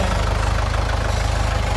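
A tractor engine runs under throttle in a field while soil is prepared for planting cassava, a loud, steady low rumble with a fast even pulse throughout, no voices.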